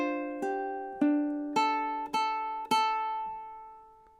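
Ukulele notes plucked one at a time, six clear strikes in a slow, even rhythm, each ringing out and decaying, close and alone with no talking, the last left to fade; measure 27 of a song.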